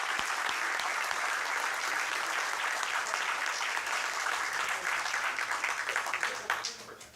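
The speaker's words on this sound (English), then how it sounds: "let's please give our mayor, council, recreation department, volunteer coaches, parents, and athletes another nice round of applause" Audience applause at a town council meeting honouring the recreation department, coaches, parents and athletes, a dense, even roar of clapping that holds steady and then tapers off at the end.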